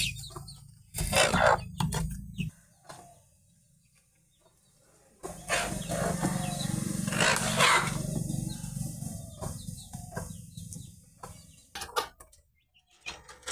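Chickens cluck and squawk in short bursts close by as two peck at each other, with quiet gaps between the busier stretches.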